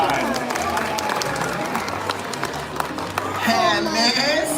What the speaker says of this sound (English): let's give Spike a round of applause one last time.